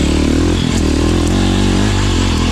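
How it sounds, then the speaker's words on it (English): A dirt motorcycle stuck on a rocky hill keeps running in a loud, close, steady engine drone with faint clattering. "The bike's still running."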